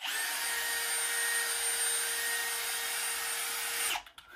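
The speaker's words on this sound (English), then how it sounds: "it is a drill powered pulley and I forgot my drill" A power drill drives a drill-powered pulley, whirring at a steady high pitch for about four seconds before cutting off abruptly, close and fairly loud with no talk over it.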